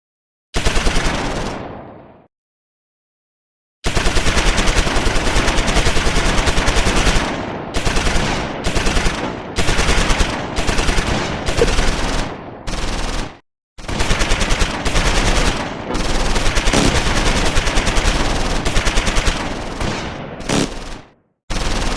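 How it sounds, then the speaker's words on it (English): Medium machine gun and mortar fire in Close Combat 4, Battle of the Bulge, with loud, near-continuous rapid bursts separated by brief silent gaps, very loud and close, without voices. "Medium machine gun and mortar fire on the Sonderkraftfahrzeug 251-16 Flammenwerfer to the southeast."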